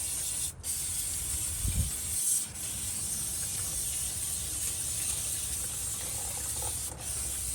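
Brake cleaner sprays into an AAM 10.5 axle differential in a steady, close hiss that runs almost unbroken, with one brief low thump partway through.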